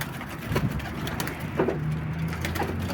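Domestic pigeons coo repeatedly nearby in low, throaty rolling calls, several overlapping phrases over a windy outdoor background.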